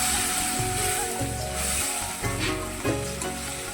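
Water with salt and turmeric hits a hot pan and sizzles loudly, a steady close crackling hiss with faint stirring underneath.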